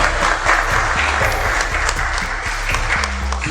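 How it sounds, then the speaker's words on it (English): Audience applause at a sponsored fellowship event, loud and steady throughout, with a low rhythmic beat, likely music, running underneath the clapping. "So I want you to clap for yourself."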